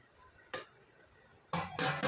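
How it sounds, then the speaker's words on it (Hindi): Crushed dried coriander dry-roasting in a pan, quiet background hiss broken by a single scrape and then a couple of louder stirring scrapes at the end, no voices. "अब अच्छे से जो है इसकी भुनाई करेंगे।"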